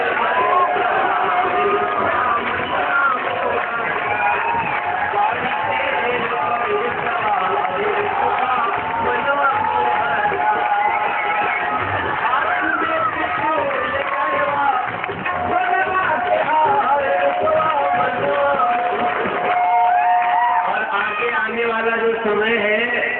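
An audience at an event at Asha Mahila Mahavidyalaya, a women's college, keeps up loud, dense cheering and clapping for the full stretch. A steady roar of crowd noise runs throughout without any pause.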